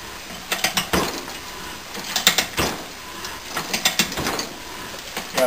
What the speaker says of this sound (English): I'm reversing the ratchet.